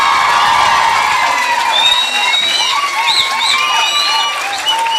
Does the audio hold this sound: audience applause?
yes